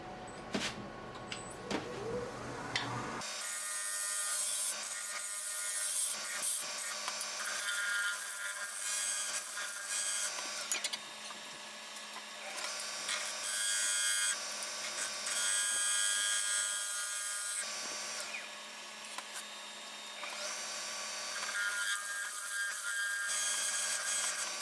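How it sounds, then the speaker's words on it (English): Steady high-pitched whirring and rasping of sandpaper, starting at 120 grit, against a wooden candy dish spinning on a lathe, loud and close, continuing without a break after a brief quieter start. "So I started sanding at 120 grits,"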